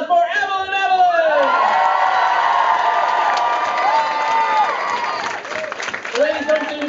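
A concert audience at Oran Mor in Glasgow claps and cheers loudly, with whoops and high shouts rising over a dense, sustained wash of applause that thins slightly toward the end.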